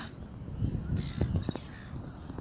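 A few short, faint caws from crows sound at a distance, spaced unevenly.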